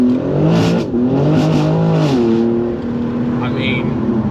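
A BMW M3 fitted with a new exhaust, valves open, revs loudly up and down with a throaty rising and falling engine note, close and continuous throughout.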